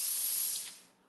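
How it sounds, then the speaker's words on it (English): A Laura Star steam iron lets out one loud burst of steam, a bright close hiss that fades away within about a second. "I'm just going to give my iron a burp,"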